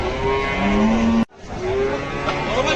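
A cow at Gabtoli cattle market in Dhaka lets out a loud, close moo, pauses briefly, then moos again, with faint background voices underneath.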